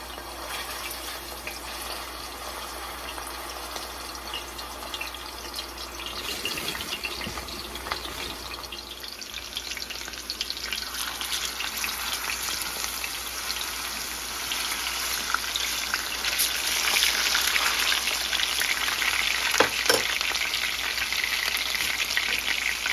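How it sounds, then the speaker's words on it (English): Pork chops fry in hot oil in a pan, a steady crackling sizzle that grows louder and denser as it goes on, with a few clunks from the pan. "So it looks like our oil is ready. And we're gonna put our pork chops in the pan"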